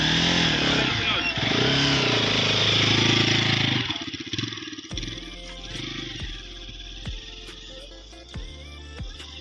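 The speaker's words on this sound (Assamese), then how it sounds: "ইও চলাব এতিয়া বাইক চাওঁ।" A motorcycle roars loudly and steadily for a few seconds, then drops to a slower, uneven putter with distinct pulses, heard up close.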